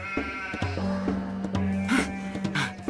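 Sheep bleat loudly and close by in a farm field, several wavering cries overlapping across the moment, with a few thuds and rustles in the background.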